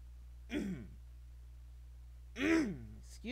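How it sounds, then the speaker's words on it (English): A man clears his throat twice, short raspy vocal bursts close to the mic over a steady low electrical hum, with a faint third sound starting at the end. "I'm clearing my throat."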